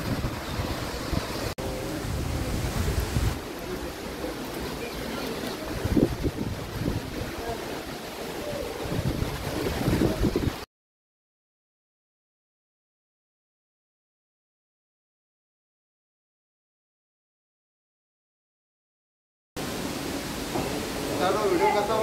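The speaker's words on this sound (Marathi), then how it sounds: "हा धबधबा एवढा भारी आहे रे" A waterfall on a closed-off stretch of road near the Grishneshwar temple area roars as a broad, steady rush of falling water, loud and continuous for about ten seconds, then drops out and returns.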